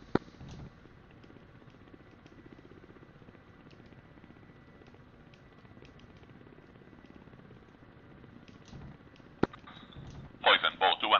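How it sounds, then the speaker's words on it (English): Aircraft gun firing at an armored personnel carrier during a close air support run in a flight simulator game, a short burst of rapid firing near the end over steady rotor and engine drone, with radio chatter throughout. "Cobra 4 engaging with gun"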